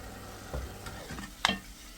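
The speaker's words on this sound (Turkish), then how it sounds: "Hemen soğanla beraber de devam kavuracağım." Minced meat and onion sautéing in olive oil in a pan, a quiet sizzle with a couple of soft stir scrapes and one sharper clack near the end.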